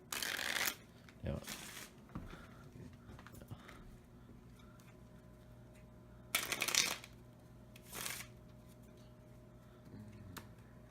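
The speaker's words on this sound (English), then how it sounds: "I used to be able to do the Hindu shuffle." Playing cards are riffled and shuffled in several loud, quick bursts, close, separated by quieter handling clicks and low background hum.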